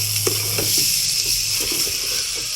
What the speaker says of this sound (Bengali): এটাকে বেশ কিছুক্ষণ ভেজে নিব।